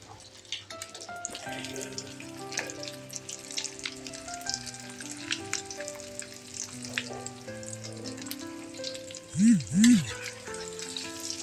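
Keema balls fry gently in a pan over a low flame, a soft, steady sizzle with light stirring and scraping, close and unaccompanied by talk, ending with a couple of sharper clinks.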